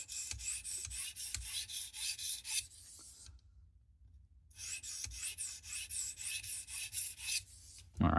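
Knife strokes rasp across the stone of a Tsprof Pioneer guided sharpening system in a close, steady rhythm, pausing for about two seconds in the middle before the rubbing resumes.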